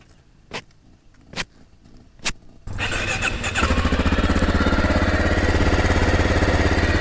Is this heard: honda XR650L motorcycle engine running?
yes